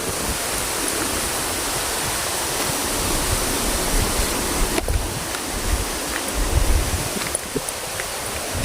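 Waterfall (busay) flowing, a steady close rush of falling water, with faint wind bumps on the microphone and no voices.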